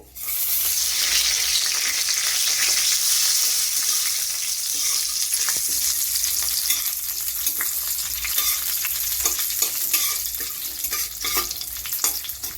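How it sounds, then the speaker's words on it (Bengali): Whole cinnamon, cardamom and cumin seeds crackle in hot oil for a Bengali omelette curry, a loud, steady sizzle with scattered pops and spoon stirring throughout. "এবারে সম্পূর্ণটা এই তেলের মধ্যে ফোড়ন দেব।"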